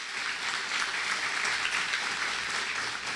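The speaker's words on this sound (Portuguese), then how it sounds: "Aplauda bem forte ao Senhor" A church congregation clapping loudly for the Lord, a steady wash of many hands filling a short stretch with no voices standing out.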